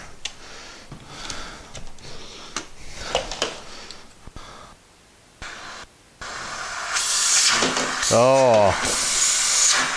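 Suction roar from a central vacuum hose just cleared of a clog packed with dog hair and dust, rising to a loud steady whoosh in the last few seconds after earlier handling noises and brief talk.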